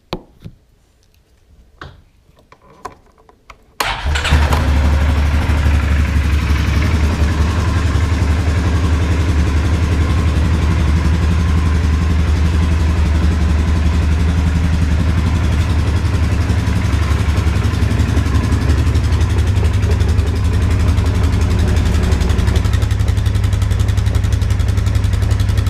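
A 2015 Polaris Sportsman ATV fitted with a snorkel kit starts up after a few seconds of quiet handling noises, then idles steadily and loudly up close with a deep, even rumble.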